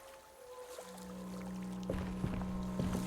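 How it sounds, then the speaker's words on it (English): Water flowing behind a wall in the video game Alone in the Dark, a steady muffled rushing wash under a low droning hum, with a few soft knocks and splashes rising toward the end. "And I hear water on the other side of this wall."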